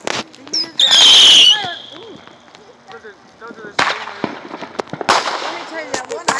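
Fireworks on the Fourth of July: one sharp burst with a crackling, whistling spray near the start, then further scattered pops and bangs later, with people chatting and shouting throughout.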